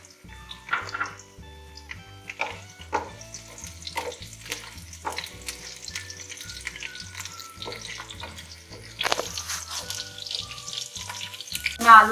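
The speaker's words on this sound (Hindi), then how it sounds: "हल्का सा इसको 1 से 2 मिनट हम इसको भूनेंगे लहसुन को।" Garlic and whole chillies fry in a pan for a potato and spinach dish, giving a close, crackling sizzle broken by scraping stirs and light clinks of the utensil, with no talking.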